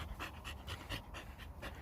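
Rapid rhythmic panting from a dog close by, steady breaths repeating throughout on an outdoor metal detecting outing in the UK, with no talk.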